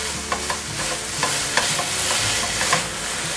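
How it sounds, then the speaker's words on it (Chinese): Potatoes stir-fried with curry powder, soy sauce, sugar and rose salt hiss with a loud, steady sizzle, broken by quick spatula scrapes and taps against the pan, close up with no talking. "现在快速翻炒"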